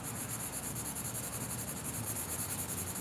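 Folded sandpaper rubbing across the bodywork of a Dodge Dart, a continuous, even, hissing scrub that stays faint and close with no pauses.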